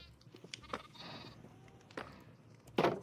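Several sheep bleat at close range, short cries scattered across a few seconds with the loudest near the end, over a quiet farmyard background.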